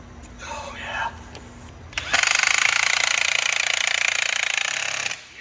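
A DeWalt power tool runs at full speed in a garage for about three seconds, a loud continuous buzzing whine that starts abruptly and cuts off, preceded by faint background talk.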